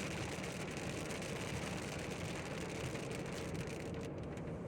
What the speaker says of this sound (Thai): ฝนตกนิดเดียวครับ